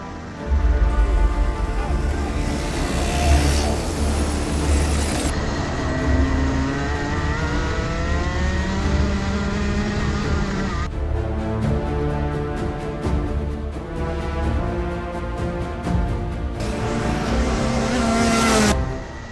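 A go-kart race engine screams around a track, loud and close, with repeated revving, rising and falling pitch through gear and corner changes, and brief drops as it passes by.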